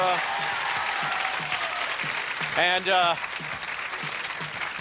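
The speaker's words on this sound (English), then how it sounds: "A round of applause for..." An audience applauds at a quiz-style game show, a sustained patter of clapping heard beneath a speaking host, with a brief burst of louder voices near the middle.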